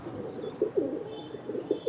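Pigeons in a loft in Coimbatore give soft, low repeated coos, several close bursts in a steady rhythm with no talking.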